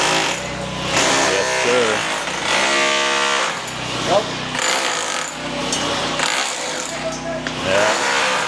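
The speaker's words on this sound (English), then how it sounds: "These are the guys drilling for the aircon." Workers drill through walls for an air conditioner installation at a house under construction, loud rattling bursts of drilling starting and stopping close by, with brief talk over the noise.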